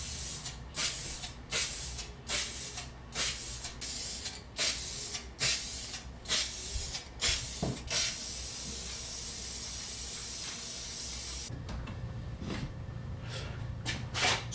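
A plywood shelf being spray painted: a run of short hissing bursts from the can, then one long continuous spray, followed by a few more brief puffs, close and clear.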